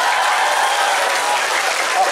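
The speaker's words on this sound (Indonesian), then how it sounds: "Tepuk tangan untuk AWW" An audience at a religious lecture applauds steadily, a dense wash of clapping that stays loud and even from start to finish.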